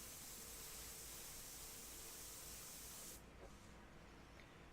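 Steady, soft hiss of an airbrush spraying paint onto a portrait, continuous and even throughout with a slight drop in level near the end, no talking.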